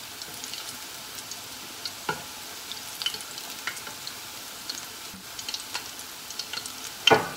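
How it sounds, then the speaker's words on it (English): Nanka-age deep frying in hot oil, a steady fine crackle and hiss with scattered sharper pops and a louder clink near the end, fairly close and with no talking. "Deep fry until they get golden brown color."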